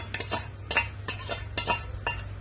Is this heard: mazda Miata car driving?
no